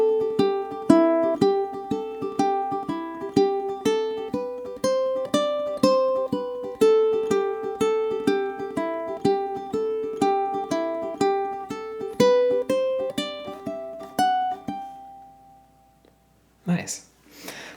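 A plucked ukulele picks out a steady, bright melody for about fifteen seconds, then the notes ring out and fade into a short, quiet scuffle.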